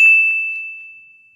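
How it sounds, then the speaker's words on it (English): A single bright notification bell ding rings out clearly on its own, its pure tone fading slowly over more than a second. "ring the bell to be notified for our latest video"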